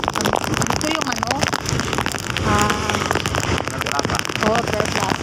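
Rain falls steadily onto surfaces with a dense, continuous patter close by, while people talk over the noise.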